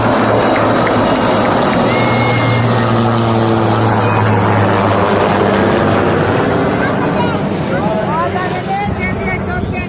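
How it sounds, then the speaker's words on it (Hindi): Military helicopters built by Pakistan Military Industries fly a display at the IDEAS 2018 air show at Sea View, Karachi. Their steady rotor and engine drone runs throughout, mixed with crowd noise and a voice speaking over it. "इसके बाद पाकिस्तान मिलिट्री इंडस्ट्रीज़ में तैयार करदा हेलीकॉप्टर्स अपने मुजाहरे दिखाने लगे।"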